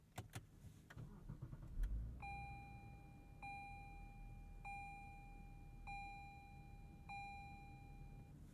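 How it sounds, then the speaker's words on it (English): A Lexus LS500 twin-turbo V6 engine cranks and catches with a low rumble, followed by a steady idle while a chime repeats at even intervals in the cabin. "Smooth sounds from the twin-turbo V6"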